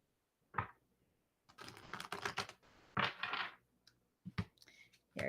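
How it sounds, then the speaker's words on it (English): A deck of tarot cards shuffled by hand in bursts of quick riffling and clicking, close and fairly quiet, with pauses between rounds. "I feel like I have to shuffle more."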